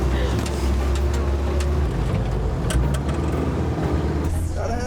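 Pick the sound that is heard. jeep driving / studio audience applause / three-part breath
jeep driving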